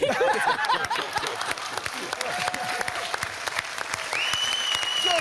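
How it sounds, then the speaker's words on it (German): Studio audience of the German TV quiz show Wer weiß denn sowas? XXL breaks into sustained, fairly close applause with scattered chuckles, and a short tonal musical sting enters near the end. "jetzt nochmal einen Applaus"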